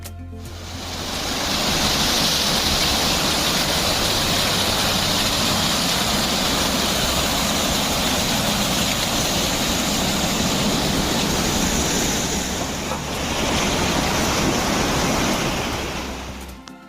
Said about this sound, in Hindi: मुझे एक वाटरफॉल मिला और ये है first waterfall valley of flower का